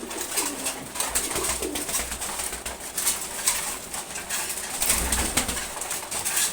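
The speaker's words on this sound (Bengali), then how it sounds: "তারপর এখানে আছে হচ্ছে রেসার মাদি কবুতর" A female racing pigeon coos in a loft, low repeated coos over a dense background of other birds' calls and rustling, close and steady throughout, with no voices.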